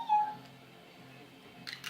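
A voice imitates a cat, giving one drawn-out, high wavering meow, close and clear, followed by a faint rustle.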